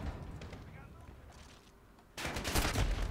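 Bursts of automatic rifle fire from a Modern Warfare match, distant crackle at first and then a loud, dense stretch of rapid shots near the end.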